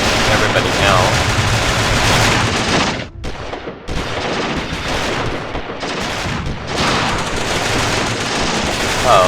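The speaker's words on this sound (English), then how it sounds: "let the troops shoot at each other and hopefully smoke everybody else" Loud, sustained gunfire and machine-gun bursts as troops trade fire in the WWII strategy game Achtung Panzer, with a brief lull before the dense shooting resumes.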